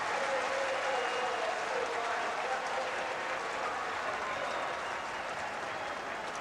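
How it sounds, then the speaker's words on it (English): A football stadium crowd at a Norwich City match applauds and cheers after a goal, a steady wash of distant clapping and crowd noise that holds evenly throughout. "this is being celebrated by the crowd and the Norwich City players"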